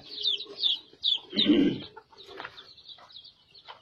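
Chickens with grown-out feathers, kept apart in a poultry shed, give short clucks and calls near the listener, with a louder low burst in the middle.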